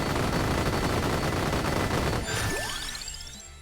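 Rapid crackling gunfire-like bursts from a homing missile weapon in Vampire Survivors pile into a dense roar, then give way to rising whistling streaks that fade out.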